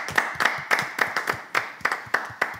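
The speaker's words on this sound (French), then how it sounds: "Les garçons, on va juste applaudir." Audience of boys applauding at a live show, a steady run of rhythmic hand claps at moderate distance, fairly soft and even, with no voices over it.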